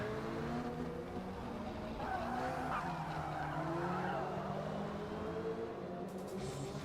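A Lancia race car in the Forza racing game skids with a sustained tire squeal and engine drone on a mountain touge road, loud and continuous, rising and falling in pitch.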